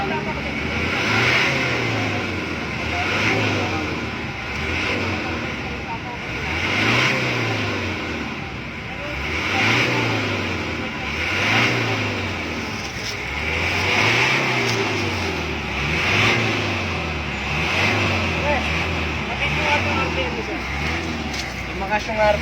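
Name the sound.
vehicle engine running and revving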